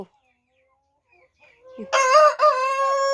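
A bantam rooster in a rural backyard flock of laying hens lets out one loud, close crow after a near-silent lead-in, a bright harmonic call with a brief break midway.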